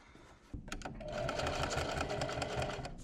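A sewing machine stitching through jeans during a repair starts after a brief pause and then whirs steadily and rapidly up close, with no speech.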